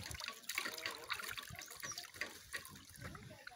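Water is poured and splashed over a chicken during a bath, a quiet run of irregular trickles and splashes close by, with no talking.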